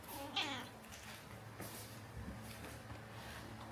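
A pet cat gives a short meow close by early on, then quieter mewing sounds follow over a steady low indoor hum.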